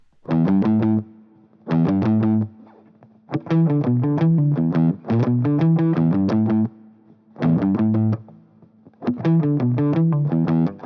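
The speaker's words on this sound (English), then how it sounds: "on a black Gibson with quite a bit of distortion" Heavily distorted black Gibson electric guitar plays a slow riff in short bursts, each phrase of ringing, buzzy notes separated by brief silences.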